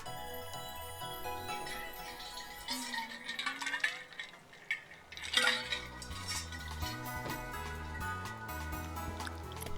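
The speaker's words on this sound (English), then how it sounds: "you just hear the ice cubes clanging around in my canteen" Ice cubes clanging inside a canteen, clinking and rattling against the walls in short jingly bursts with a little sloshing, heard close over steady game music with no talk.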